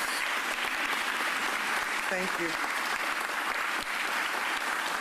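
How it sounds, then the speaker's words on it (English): An audience applauds at a mayor's press conference, steady dense clapping from a crowd that fills the whole stretch evenly, with a brief spoken voice heard over it. "Give the big three a round of applause"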